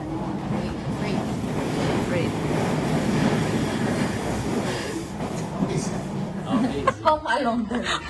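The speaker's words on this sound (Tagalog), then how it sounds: "So we're here at York Station" A train rumbles and rattles at York railway station, a continuous low clatter with people talking and laughing over it and louder knocks near the end.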